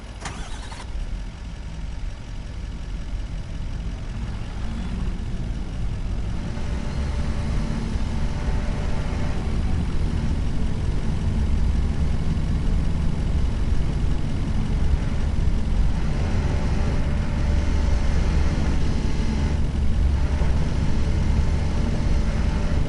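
A truck engine running in the video game Farming Simulator 25, a loud steady low diesel drone that starts up and holds an even idle throughout with no talking.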